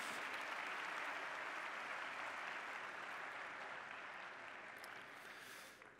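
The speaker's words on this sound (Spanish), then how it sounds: "Un aplauso para Germán, el creador de agujeros negros." Audience applause at a popular science talk, a sustained wash of many hands clapping that holds steady and then begins to thin and fade toward the end.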